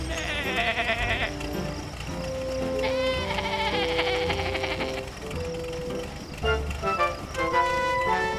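Cartoon sheep bleats ring out in an animated vehicle story for kids, riding over a steady bed of background music with tonal, wavering calls through the middle of the clip.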